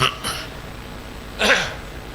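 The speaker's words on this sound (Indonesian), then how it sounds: "Kenapa jadi batuk sih?" Two short coughs, one near the start and a louder, harsher one a moment later, close by against quiet background noise.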